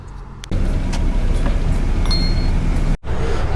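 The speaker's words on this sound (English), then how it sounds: "Finally a bus has turned up." A city bus pulls up to a stop where a line of people is waiting, giving a close, steady engine rumble with road noise and a sharp break near the end.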